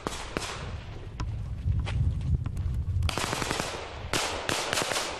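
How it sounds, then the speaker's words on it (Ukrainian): Bursts of automatic rifle fire crackle in rapid volleys, some sharp and near, others fainter, separated by short pauses and low rumbling of mortar explosions, at the front line near Horlivka. "під клекіт автоматів та вибухи мін"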